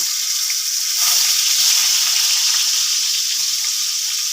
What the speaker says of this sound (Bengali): এরপর এবার আমরা আলুটাকে ভেজে